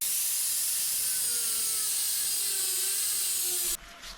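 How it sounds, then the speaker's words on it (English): A grinder works down a weld on an aluminum shifter from a Yamaha 1700 motorcycle, giving a steady loud high-pitched whine with slight pitch drift that cuts off abruptly near the end, with no talk. "So I'm going to grind this up"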